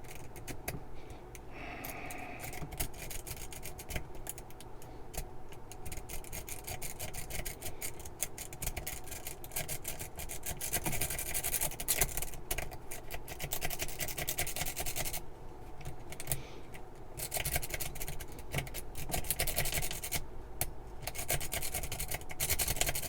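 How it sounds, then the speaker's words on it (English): A Peterson quint rake pick is worked back and forth in the keyway of a Brinks door lock, making a continuous close scratchy rubbing and rasping sound that carries on steadily throughout. "For this, the first thing we're going to try to do is rake it open."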